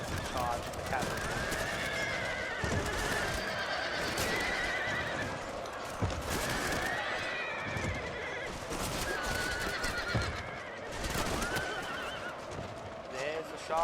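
Cavalry horses neighing and galloping amid battle in Total War, repeated loud whinnies over a dense clatter of hooves, with a voice talking throughout.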